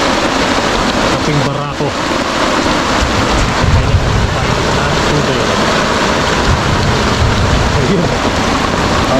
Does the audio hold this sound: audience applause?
no